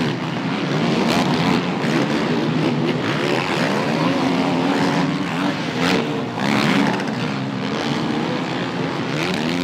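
Quad bikes race in a motocross event on sand at the Quadcross of Nations, a dense, continuous engine drone of several machines revving and accelerating at mid distance.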